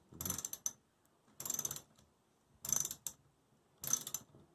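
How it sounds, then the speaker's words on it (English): Bolts being loosened on a Yamaha F20 outboard motor, four separate bursts of quick ratcheting clicks with short pauses between them, close and fairly quiet. "Okay, we're getting the bolts off."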